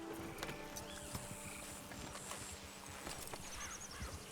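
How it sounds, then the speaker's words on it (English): Faint, steady clip-clop of horse hooves at a walking pace over a quiet ambient background, in the video game Red Dead Redemption 2. "Load Anders onto the back of your horse there, and we'll take him to Sheriff Gray."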